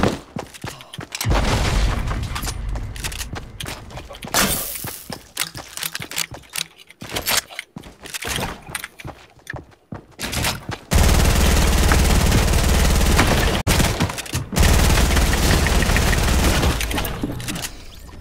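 SMG gunfire in Fortnite Creative, with dense rapid bursts of automatic fire, loud and close, broken by short pauses and heavier booming impacts.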